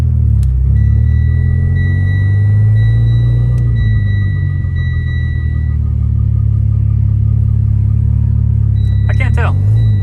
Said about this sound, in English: this is the first drive with it after I change that axle